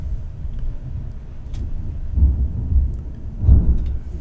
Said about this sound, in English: The thunderstorm, okay.